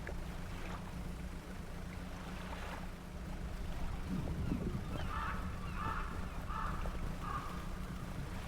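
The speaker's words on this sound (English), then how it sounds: "I don't know if the horn is supposed to scare the birds away" A boat horn in the fishing game Dredge gives several short honks in a row, each a few seconds apart, over a constant low engine drone and lapping water.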